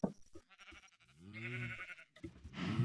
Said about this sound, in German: Da ist ein Schaf.